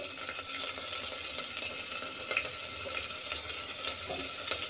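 Dried red chillies, garlic and green chillies frying with browned cumin seeds in hot oil, giving a steady, dense sizzle that runs throughout at close range with no talk.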